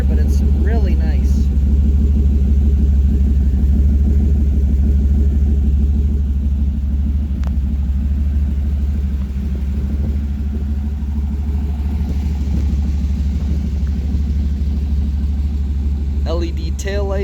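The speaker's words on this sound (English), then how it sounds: "Great sounding exhaust. That short pipe and headers, you'd think it'd be louder, but it's really nice." A 1964 Chevrolet C10 short box with a Fastburn 385 crate engine, short exhaust pipes and headers, idles with a steady, deep, loping rumble throughout, close and fairly loud.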